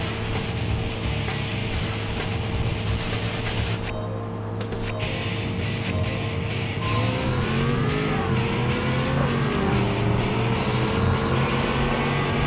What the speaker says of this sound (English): Hearing that car made me shift early.